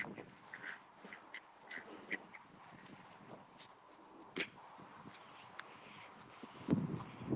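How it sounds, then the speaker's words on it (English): Ducks quack in scattered bursts, fairly faint against an outdoor background with occasional clicks and shuffling, and one louder, closer quack near the end. "so many ducks"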